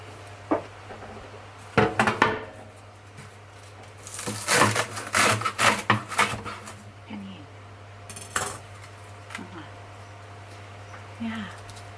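A dried luffa sponge being cut in half in a kitchen, with a handful of crisp cutting and scraping crunches amid clattering handling noises and a steady background hum.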